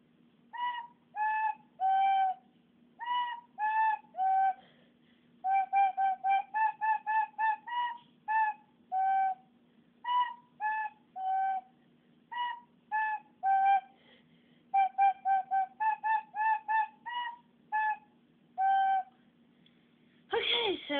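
A recorder plays Hot Cross Buns, a simple, slow tune of short, clear, breathy notes in repeated phrases, with brief pauses between groups and a low hum beneath.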